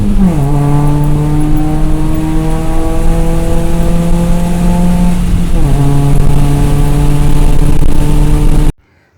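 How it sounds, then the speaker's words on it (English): First-generation Kia Forte Koup exhaust note, heard close and loud as the engine revs up, holds, dips and revs again in two long sustained pulls before cutting off abruptly. "let's have a listen to Tian's sweet exhaust note."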